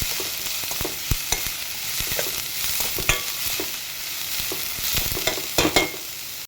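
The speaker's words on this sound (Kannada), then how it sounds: "ಇದನ್ನು ಕೂಡ ಹೀಗೆ ಫ್ರೈ ಮಾಡಿ ಸೊ ಆದಷ್ಟು ನಾವು ಆಯಿಲಲ್ಲೇ ನೀಟಾಗಿ ಅದು ಬೇಯೋವರೆಗೂ ನೀಟಾಗಿ ಫ್ರೈ ಮಾಡಿಕೊಂಡ್ರೆ ಚೆನ್ನಾಗಿರುತ್ತೆ" Carrot and bread masala mixture fries in oil in a pan for bakery-style masala toast, giving a continuous close sizzle punctuated by sharp spatula knocks and scraping as it is stirred.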